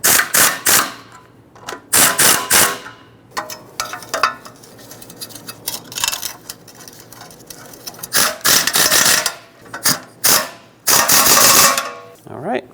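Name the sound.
pneumatic air gun tightening exhaust manifold bolts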